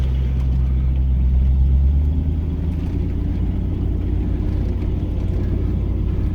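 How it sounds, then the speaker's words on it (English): A 1994 Range Rover drives slowly over a rutted field, its engine rumbling steadily with a loose exhaust knocking underneath at the rear. "That's why the exhaust is banging around at the back."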